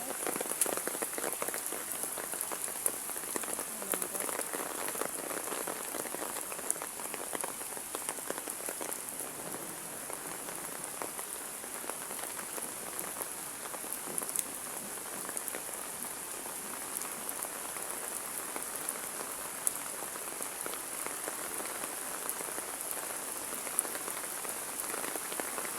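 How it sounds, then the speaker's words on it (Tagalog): Heavy typhoon rain from Typhoon Carina pours steadily over a flooded area near Metro Manila, a dense, constant hiss of drops drumming on surfaces with no pauses, loud and close throughout. "Ng ulan mga guys, bagyong Karina."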